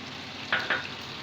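Masala with tomato, cashew and dried chilli paste sizzles steadily in a pan, with two quick scraping stirs standing out near the middle of the short stretch.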